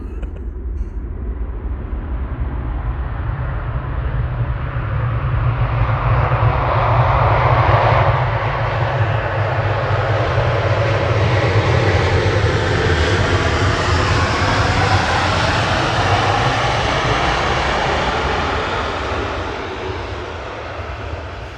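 A loud fixed-wing airliner passes close by at Manchester Airport, its engine roar building to a sustained peak near the middle and easing slightly toward the end, with no talking over it.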